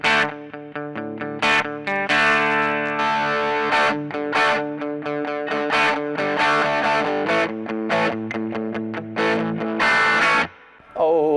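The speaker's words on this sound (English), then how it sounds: "Let's do a screamer. It's coming in with the gain halfway up and the level up." Electric guitar runs through a screamer-style overdrive, gain halfway and level up, on a POD Go, playing choppy chords and short riffs with a boxy, mid-heavy crunch, loud and close.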